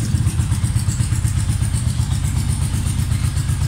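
A modified 230cc motorcycle engine idles close up through a quiet exhaust, giving a steady, rapid low pulsing thump with some clatter and no talk.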